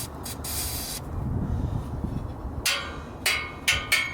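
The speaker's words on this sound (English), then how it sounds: "just spray the grease in there" Aerosol grease sprays into the active exhaust valve of a Mopar Hellcat or Scat Pack, several sharp close hissing bursts, short and then longer, separated by quieter handling noise, with no talk.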